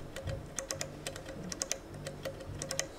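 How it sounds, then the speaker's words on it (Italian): The stacked control knob on a Fender Jazz Bass 60th Anniversary, an early-1960s-style double-stack control, clicks in quick, crisp detented ticks as it is turned, close and quiet, with no talking. "E quello che se giri fa click clack?"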